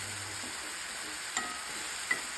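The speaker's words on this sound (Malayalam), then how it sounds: "ഇനി ഇതിലേക്ക് ഇഞ്ചി വെളുത്തുള്ളി പേസ്റ്റ് ഇട്ട് നന്നായിട്ടൊന്ന് മൂപ്പിച്ചെടുക്കണം." Ginger garlic paste sautés in a pan for a prawn masala, giving a soft, steady sizzling hiss with a couple of faint clicks from stirring.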